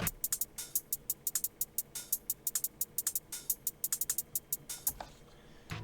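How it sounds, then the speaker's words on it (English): A tight drum and bass percussion loop with crisp, rapid hi-hats ticking over punchy kicks and snares, steady and upfront, no voices. "So altogether, the percussion sounds like this."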